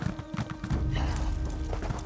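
A horse ridden in Elder Scrolls Online clip-clops along in a steady, even hoofbeat rhythm. The hooves sound close and moderately loud, with no talking over them.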